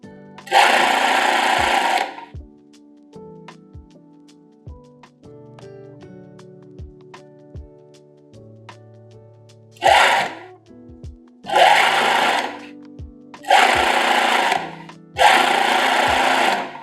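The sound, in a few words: sewing machine topstitching a garment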